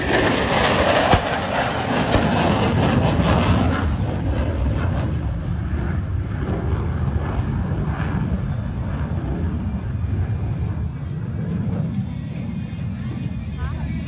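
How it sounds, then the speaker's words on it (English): An EA-18G Growler electronic attack jet from a Navy squadron roars loudly at an air show, the broad jet rumble strongest at the start and easing into a steady distant drone, with an announcer's voice running over it. "begins to reposition the E-18G Growler for another right to left photo pass"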